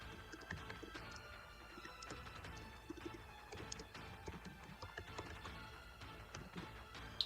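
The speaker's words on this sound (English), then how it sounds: "you're typing loud" Computer keyboard typing clatters in quick, uneven bursts of clicks, faint and steady, with no voices over it.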